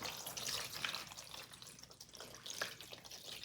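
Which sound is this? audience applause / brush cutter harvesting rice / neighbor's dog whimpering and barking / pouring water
pouring water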